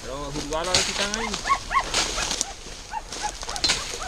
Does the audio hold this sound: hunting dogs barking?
yes